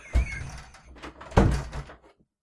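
Two thuds of a door being shut, the second a louder slam with a brief rattle, then silence.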